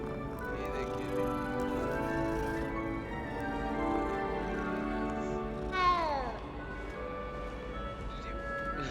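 A cat in the video game Hogwarts Legacy lets out a single clear, drawn-out meow partway through, heard over steady background game sound and music, with people talking nearby.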